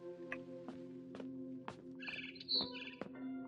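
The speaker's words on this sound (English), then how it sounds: "Then I heard chirping outside my window." A barn swallow from the video game What Remains of Edith Finch chirps outside a window in short, bright bursts and trills, moderately near, over a steady low game ambience with no talk.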